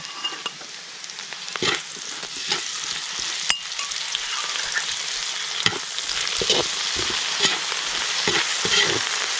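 Fresh shrimp paste (alamang) frying in a pan, a close, continuous crackling sizzle with irregular bursts of stirring and spattering throughout.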